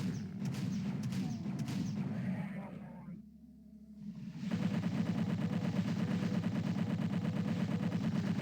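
Chain gun fire in a Doom map, a dense run of rapid shots with a short lull in the middle, then heavy, sustained firing to the end.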